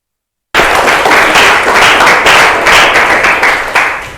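Students in an Indonesian classroom lesson break into loud, sustained applause after half a second of silence, dense clapping continuing steadily to the end without talk.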